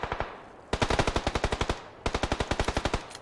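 Automatic gunfire in the battle-royale game PUBG Lite rattles off in loud, rapid bursts, a short volley followed by two long sustained strings of evenly spaced shots with a brief pause between them.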